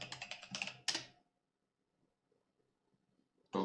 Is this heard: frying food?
no